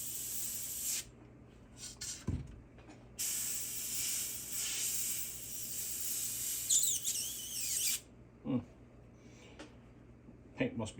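Airbrush hissing in several bursts of different lengths as white paint goes onto a hen mallard decoy, the spray stopping and restarting between them, with a quiet voice talking in the gaps.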